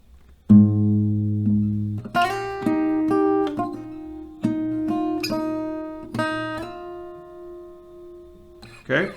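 Acoustic guitar playing a riff slowly, with clear plucked single notes and a few slides ringing one after another, close and alone.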